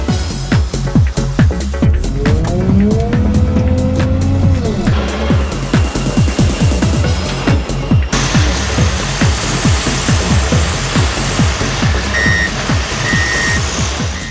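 A Volvo wheel loader working and loading material, its engine droning steadily throughout with repeated clanks, a pitch-rising whine, and reversing beeps sounding near the end.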